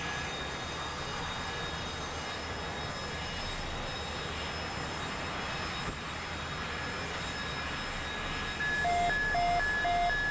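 A game aircraft engine in DCS World roars steadily through a landing approach, a dense, continuous drone that swells slightly near the end, with no talking.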